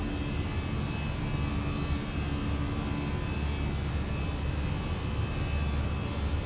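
A Fenix A320 airliner in Microsoft Flight Simulator 2020, just after a fast takeoff from LFML: a constant, broad jet engine rumble with a faint steady whine, unchanging throughout and with no talk.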